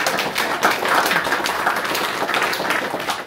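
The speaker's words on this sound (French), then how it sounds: "Ah, ben on peut applaudir encore une fois." Colloquium audience applauding, a dense steady wash of many hands clapping for a few seconds, loud and close with no talk over it.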